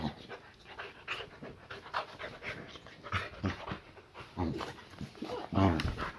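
A boxer dog panting close by in quick, rhythmic breaths, at a low level, with a few faint whimpers mixed in.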